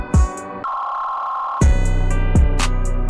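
Mastered beat with a distorted, compressed sound: heavy booming kick hits and bright synth tones, a sustained tonal pad in the middle, dense and loud throughout.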